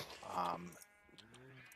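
Two bleats from a sheep in Minecraft, the first louder and the second softer, with a short quiet gap between them.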